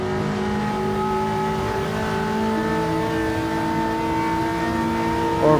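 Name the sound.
Maserati sports car passing at speed on the Nürburgring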